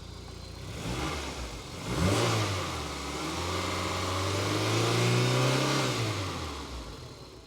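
Peugeot 306 GTI-6 engine revved while parked for an inspection, the note climbing from idle into a strong rev that holds and then settles back, close and loud with no talking.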